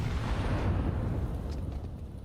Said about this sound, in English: Oh, that nade